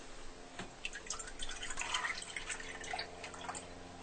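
Whole milk poured into a pot for rice pudding, a close, soft, steady liquid stream with gurgling and splashing throughout, no talking.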